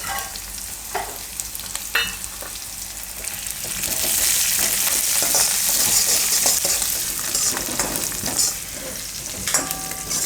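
Curry leaves dropped into hot oil for a Gujarati makhana sabudana khichdi, producing a loud, crackling sizzle that swells midway and stays busy with spattering pops, no speech.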